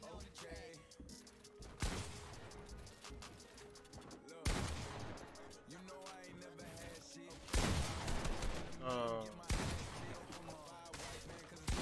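Rapid bursts of Fortnite gunfire in a solo competitive match, loud and close, with several volleys of sharp shots and short gaps between them, under a player's excited talk.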